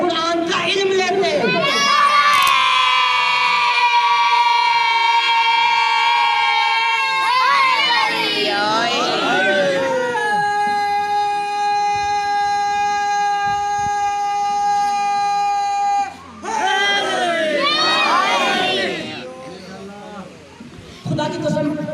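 A religious gathering's crowd chanting slogans in loud unison during a sermon, with long sustained shouted calls in two waves and swelling, overlapping voices between them.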